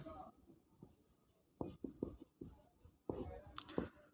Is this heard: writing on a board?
yes